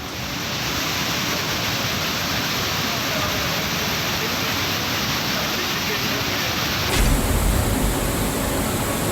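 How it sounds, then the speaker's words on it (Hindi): A torrent of floodwater pours off a hillside into the Kedareshwar temple complex in Ratlam during heavy monsoon rains, a loud, unbroken roar like a waterfall that surges heavier near the end. "पहाड़ी से पानी की तेज धारा मंदिर परिसर में गिर रही थी"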